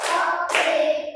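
An elementary school class claps together as part of a teacher's clapping rhythm game in a third grade lesson, a burst of many hands giving a dense, roomy crackle that swells, breaks briefly, then fades.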